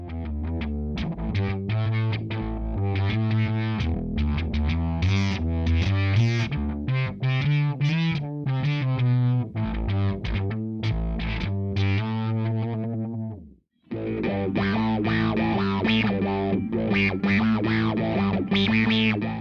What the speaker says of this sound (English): This is another bass synth preset